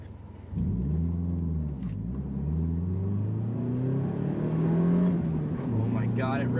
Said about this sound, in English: it revs so fast now